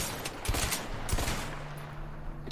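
Rapid bursts of gunfire from the video game A Way Out crack in quick clusters, several loud sharp shots fired in succession over a low rumbling game backdrop.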